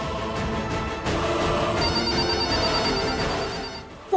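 A landline telephone rings steadily and loudly, a continuous electronic trill filling the space, with no voices over it.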